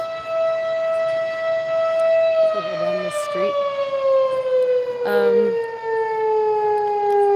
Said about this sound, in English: Sirens are done.